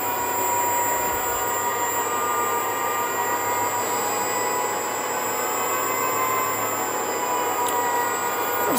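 An electric vehicle's spinning wheels give a sustained high-pitched squeal, a thin steady whine riding over a constant rushing drone for the whole stretch, with no clear change in pitch.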